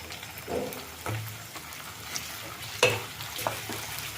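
Chopped vegetables and curry leaves frying in oil for upma, a soft continuous sizzle broken by several spatula stirs and scrapes in the pan, close and fairly quiet.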